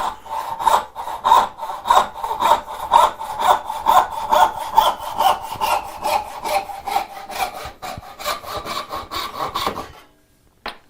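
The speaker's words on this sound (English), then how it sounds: "we're going to turn the board, put it vertical in the cut, and we're going to rip it down with a tenon saw." A tenon saw rip-cuts down a wooden board clamped upright, with about fifteen loud, close back-and-forth strokes in a steady rhythm before the sawing stops abruptly near the end.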